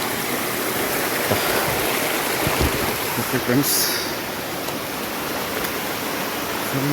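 A river flows through a government elephant forest in a continuous, steady broadband rush of water, close and constant throughout, with a voice speaking briefly over it.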